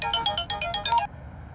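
A phone rings at midnight with a bright electronic ringtone pattern of rapid repeated tones for about a second, then stops, leaving faint background hum.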